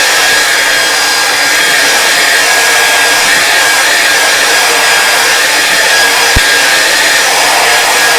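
A hair dryer blows steadily on wet paint on a canvas during a mountain landscape painting lesson, giving a loud, unbroken whooshing roar that holds the whole time with no talk.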